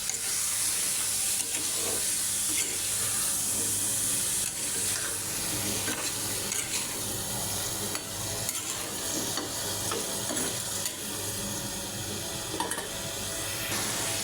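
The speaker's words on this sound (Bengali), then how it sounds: "আর মশলার সাথে কচুর ছড়াটা ভালো করে মিশিয়ে নেব।" Taro stolons being stirred into spices in a hot pan, frying with a steady close sizzle and hiss under repeated scraping stirs, with no talking.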